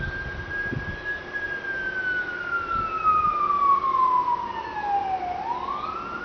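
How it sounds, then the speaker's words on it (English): An emergency vehicle siren wails from a distance on a warm day as a storm approaches. Its long tone slowly falls in pitch, then sweeps back up, over steady road and traffic noise. "Here we go, more sirens."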